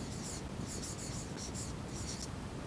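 A pen writes an algebra answer, with close, scratchy strokes in short bursts over a steady background hiss.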